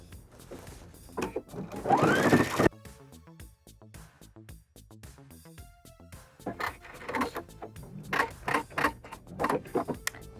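A sewing machine stitches down the pleats on a blazer being turned into a dress, with irregular clattering runs of stitching, short pauses and thunks, heard up close.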